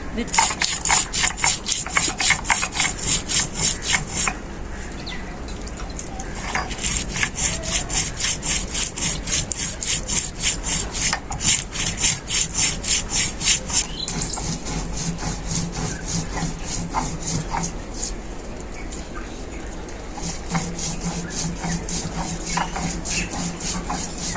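Cumin, coriander, black pepper and dried chillies are ground on a grinding stone, a rapid repetitive scraping and rubbing rhythm close up that continues throughout.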